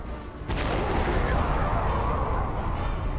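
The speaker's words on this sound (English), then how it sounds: "So hopefully that cannon should sink the ship." In the video game Kameo, a cannon fires at a ship and sets off a loud, sudden boom that becomes a sustained, rumbling roar of impact lasting several seconds.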